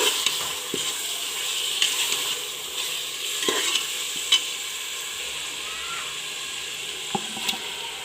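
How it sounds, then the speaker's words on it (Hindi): Beef biryani masala with a little salt fries in a hot pan, a steady close sizzle broken by scattered scrapes and taps of a stirring spoon through the whole stretch. "इसको अच्छी तरह भूनेंगे।"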